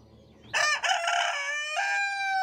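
A single rooster crows nearby, a loud, drawn-out cock-a-doodle-doo against a quiet background.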